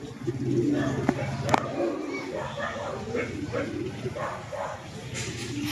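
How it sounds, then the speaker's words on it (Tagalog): Pigeons coo repeatedly nearby in soft, rolling calls, while people talk over them throughout. "Ang dami nagkakalapate rito eh."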